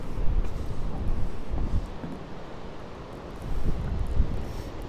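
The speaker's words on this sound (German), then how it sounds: "Jetzt windet's noch. Jetzt bläst mich zum Glück ist er von hinten." Strong gusting wind buffets the microphone on a mountain path near the Caminito del Rey in Andalusia, Spain, a loud continuous low roar that swells and eases.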